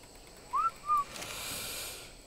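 A short two-note whistle command from a player in Ark Survival Evolved, clear and fairly loud, followed by a soft, hissy game ambience.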